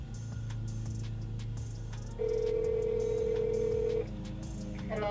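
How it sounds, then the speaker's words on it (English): A telephone rings and beeps with repeated electronic tones, including one sustained steady tone in the middle, over a low background hum. "my phone was ringing"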